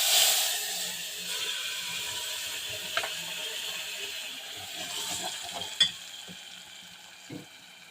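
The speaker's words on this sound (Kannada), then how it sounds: "ಈ ಥರ ಒಂದು ಪ್ಯಾನ್ಗೆ ಎಣ್ಣೆ ಮತ್ತು ಸಾಸಿವೆ, ಜೀರಿಗೆ ಹಾಕ್ಕೊಂಡಿದ್ದೀವಿ. ರುಬ್ಬಿಟ್ಕೊಂಡಿರೋ ಮಸಾಲೆ ಹಾಕ್ತಿದ್ದೀವಿ." Ground masala sizzles in a pan of hot oil with mustard seeds and cumin, a steady frying hiss broken by occasional clinks and scrapes of stirring, close and alone.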